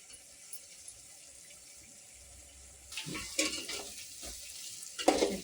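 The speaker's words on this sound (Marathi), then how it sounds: "छान असं परतून घेऊ आपण" Pav bhaji masala and garam masala fry in hot oil with a faint, steady sizzle. After about three seconds, louder scraping and stirring strokes break in at irregular intervals, close by.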